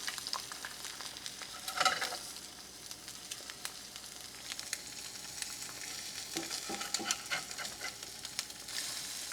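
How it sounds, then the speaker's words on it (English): Eggs fry in a pan with a steady, fairly faint sizzle, joined by scattered scrapes and clicks as a spatula slides underneath and flips them. "as soon as you're able to flip them, just get underneath it"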